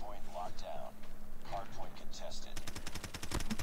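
Rapid bursts of gunfire from a PP submachine gun in the mobile shooter Call of Duty Mobile, a fast rattling string of shots near the end, with a player talking over game effects before it.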